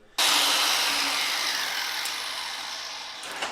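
A hand file scraping across a metal part during a KX250 go-kart engine install, one long steady rasping stroke that starts abruptly and fades slightly over about three seconds, close and moderately loud.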